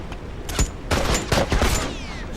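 Rapid gunfire crackles in multiplayer combat in The Last of Us video game, with dense overlapping shots and bursts in quick succession, loud and continuous for the whole moment.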